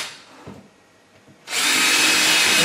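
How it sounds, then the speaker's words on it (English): A power drill bores a pilot hole into the end of a wooden board for a casting sifter, starting after a few faint handling knocks and then whining steadily and loudly up close. "I'm going to drill a hole on the end of each, a pilot hole on the end of these"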